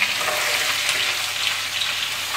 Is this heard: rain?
no